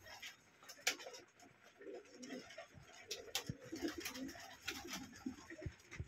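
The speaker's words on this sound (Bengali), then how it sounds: "আমার শখের কবুতরগুলোকে সকালবেলা খাবার দিলাম।" Pigeons cooing in a home loft during morning feeding: faint, soft repeated coos from several birds with scattered ticks and pecking clicks, quiet and close.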